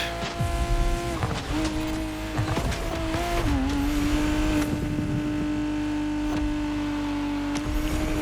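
A Lotus Emira Gold Shadow Edition in The Crew Motorfest drones along at a steady engine pitch, with a sustained tonal hum that briefly rises and settles, plus light tyre noise and no talking.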